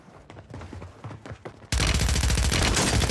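Loud, dense automatic gunfire in the Call of Duty battle royale map Rebirth Island, bursting in abruptly halfway through after quieter scattered shots and game noise, then continuing as a rapid, unbroken stream of close shots.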